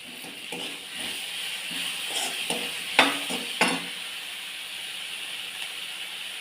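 Okra (bhendi) stir-frying with turmeric and red chili, a steady sizzling hiss with scraping spatula strokes and a few sharper clacks against the pan, close and moderately quiet.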